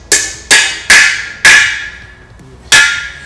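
A hammer drives a domed freeze plug into a Cadillac 390 engine block: five sharp, ringing metallic strikes close by, four in quick succession and a fifth after a pause, each decaying with a bright resonant tone.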